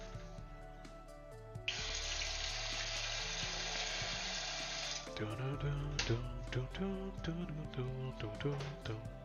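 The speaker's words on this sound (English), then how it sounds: "Fill this with water." Tap water runs steadily into a spray bottle for several seconds, a bright hiss that stops abruptly, with background music playing underneath.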